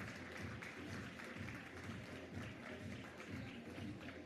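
An audience at an awards ceremony applauds steadily, a dense wash of many hands clapping together, sustained and even with no voices on top.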